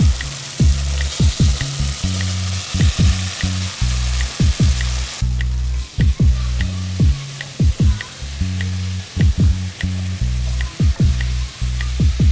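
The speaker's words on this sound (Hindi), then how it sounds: "भिंडी को मैंने तड़का लगा दिया, उसे थोड़ा समय लगेगा" Okra tempered in spiced oil sizzles steadily in a pan on a home stove, punctuated by regular scraping and clacking stirring strokes, loud and close.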